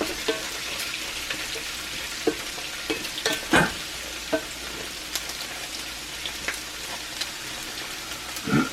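Bacon sizzling in a cast iron pan, a steady frying hiss with scattered pops and scraping stirs, a few sharper clatters standing out, no talk.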